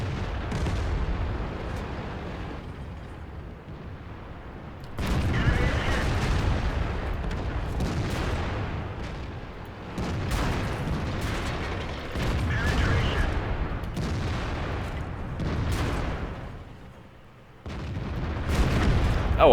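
Tank cannon fire and shell impacts in the online tank battle game World of Tanks, heavy booming shots repeating every few seconds over a steady rumbling battle din, with voices talking over them.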